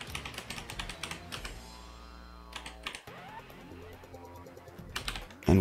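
Rapid keystrokes on a computer keyboard, close and fairly quiet, come in uneven bursts of clicking with short pauses between them.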